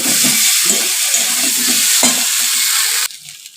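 Potatoes for a fish curry fry with spices in a pan, a loud, steady sizzle with stirring scrapes that keeps going for about three seconds and then drops off sharply to a quiet hiss.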